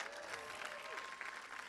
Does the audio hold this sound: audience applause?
yes